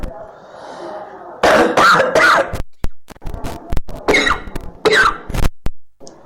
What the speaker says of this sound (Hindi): खांसी होना शुरू हो गई।